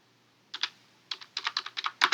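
Computer keyboard keys tapped in short bursts of quick clicks, close and fairly quiet, with a brief pause before a denser run of typing while designing notebook covers in Canva.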